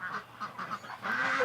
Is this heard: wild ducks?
yes